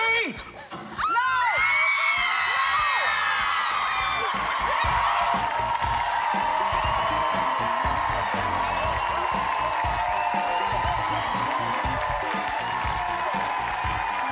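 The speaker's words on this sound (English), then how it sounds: "The audience is already screaming" A studio audience at a talk show screams and cheers loudly and continuously, with whoops and shrill voices mixed together, building after a short quieter opening and holding for over ten seconds.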